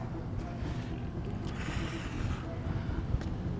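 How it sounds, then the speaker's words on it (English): Strong wind buffeting the microphone high on Ambuluwawa Tower in Sri Lanka, a steady close roar with low rumbling gusts that swell briefly around the middle, with no talk. "Oh my God, the wind."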